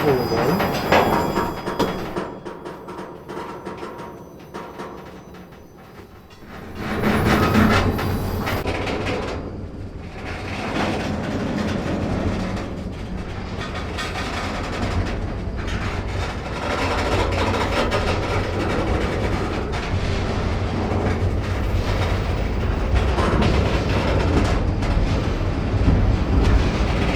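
A freight train gets moving again, starting with quieter rattling and creaks, then a loud, steady rumble of rolling cars with rhythmic rail clacks and metallic clanks, heard close from on board for the rest of the stretch.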